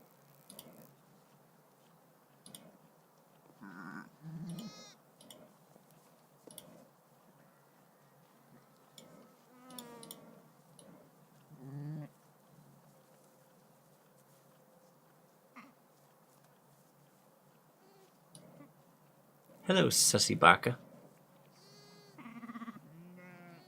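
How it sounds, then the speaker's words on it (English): Sheep-like bleats recur among scattered speech, with a louder, harsher burst near the end, heard during a casual evening chat. "You hear that sound? It sounds like a sheep."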